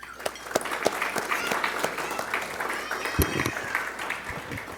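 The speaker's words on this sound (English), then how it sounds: "I think that we should also just give her a round of applause in absentia" A room of guests at a graduation dinner gives moderate applause, scattered claps swelling into a steady patter that then thins out, a little distant in the room.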